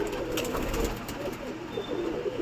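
Pigeons coo softly and repeatedly, low throaty calls overlapping at close range against a steady background.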